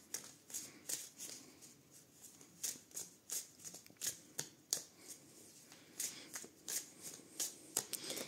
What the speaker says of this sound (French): Donc les cartes se mélangent bien, il n'y a aucun problème de ce côté-là.